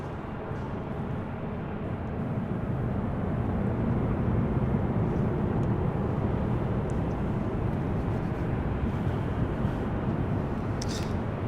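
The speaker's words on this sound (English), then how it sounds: "This is United Airlines 1923 coming in from Houston Intercontinental on a MAX 9." A United Airlines Boeing 737 MAX 9 arriving at LAX from Houston, heard as a steady broad jet roar that swells slightly after the first couple of seconds and holds at a distance without a clear peak.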